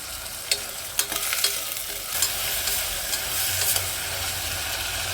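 Vegetables fry and are stirred in a pan for a biryani, a steady sizzle broken by several sharp scraping clicks of the spoon against the metal, close by, with no voices.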